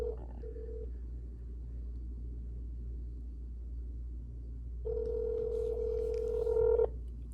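A phone call rings out unanswered: a brief tone, then a long steady ringback tone over a low background hum, with no voices.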